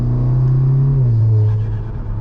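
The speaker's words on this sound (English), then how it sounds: "I'm just gonna put in manual mode just so you can get an idea what this thing does sound like, sort of through the lower RPMs in the rev range." A tuned VW Golf R Mk7.5 engine and exhaust revving through the low RPM range in manual mode, heard up close as a loud, deep drone that climbs briefly and then settles lower.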